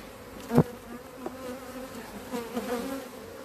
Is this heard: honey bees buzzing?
yes